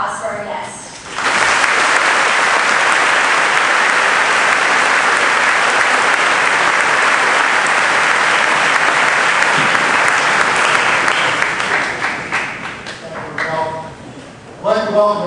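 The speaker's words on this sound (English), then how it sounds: "let's give a big round of applause for our guest." A large crowd at the 2014 Wallenpaupack graduation ceremony breaks into loud, sustained applause that holds for over ten seconds, then thins out with a few scattered claps.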